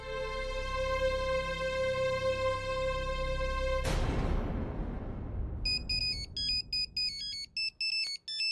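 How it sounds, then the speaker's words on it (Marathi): A sustained electronic tone gives way to a noisy burst, followed by a bright, beeping ringtone melody playing in quick repeating notes. "फोन कुठे वाजतो?"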